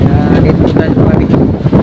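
Strong wind roars and buffets the microphone aboard a small boat at sea, loud and unbroken throughout.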